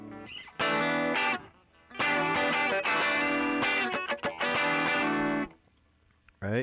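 An overdriven electric guitar on the middle pickup gives a Telecaster-like tone, with bursts of distorted strummed chords and choppy stabs separated by short silent gaps.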